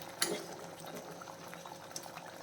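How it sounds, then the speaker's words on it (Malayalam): Thick red curry gravy bubbling in a pan, a steady close simmer of soft pops and sputters with one sharper pop near the start, no voices. "കണ്ടോ, ഇതിപ്പോൾ നല്ല തിളച്ചിട്ട് തിക്കായ ഗ്രേവി ആയിട്ടുണ്ട്."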